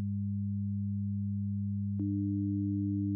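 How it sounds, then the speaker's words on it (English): A steady 100 Hz sine tone from a tone generator, joined partway through by an added overtone, producing a clean, continuous, unwavering electronic hum with no voices. "Let's use a tone generator to replicate the first 16 harmonics or overtones using a 100 Hz sine wave as our vantage point"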